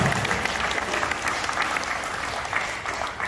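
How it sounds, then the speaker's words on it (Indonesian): A room full of people claps steadily, a dense burst of applause that holds for a few seconds without any talking. "tepuk tangan buat Pak Profesor."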